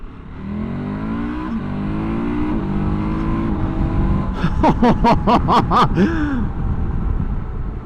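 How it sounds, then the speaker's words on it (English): A 2024 KTM 1290 Super Adventure R motorcycle engine revs up steadily, rising in pitch, then a burst of sharp pulsing revs near the end, loud and close. "the engine sounds pretty smooth and refined for a KTM"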